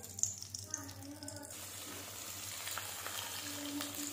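Onion, garlic, ginger and tomato paste frying in oil for a spicy bazaar amti, a steady close hiss of sizzling with a voice briefly talking over it at the start.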